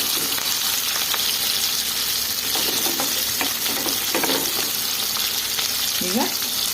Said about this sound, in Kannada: ಆಯಿಲಲ್ಲೇ ನಾವು ಈ ಈರುಳ್ಳಿನ ನಾವು ಸಣ್ಣ ಈರುಳ್ಳಿನ ಫ್ರೈ ಮಾಡ್ಕೊಬೇಕು